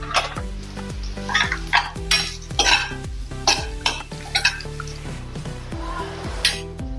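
Sliced onions and green chillies fry in a pan for poha, with a spoon scraping and stirring in quick repeated strokes over a soft, constant sizzle, close and clear.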